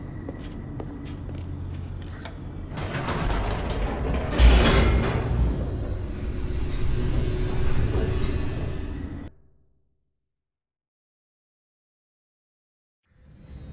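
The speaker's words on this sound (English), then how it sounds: "The elevator raced downward, plummeting towards an unknown fate." A descending elevator in the video game The Stanley Parable gives a steady mechanical rumble with whooshing motion and a thud partway through. It runs for about nine seconds, then cuts to silence before a faint return at the end.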